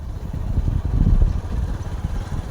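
A tractor's low, rumbling engine drones steadily, swelling slightly in the middle as it passes close by, with faint voices underneath.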